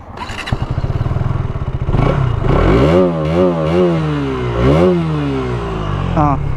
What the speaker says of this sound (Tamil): இதில் பார்த்தீங்களா அந்த ரேவ் சவுண்ட் கேட்குது.